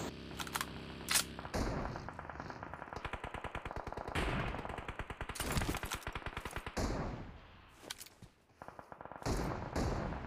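PUBG Mobile MP submachine gun firing in rapid sustained bursts, crisp and close, several sprays separated by brief pauses, fairly faint overall with no talk.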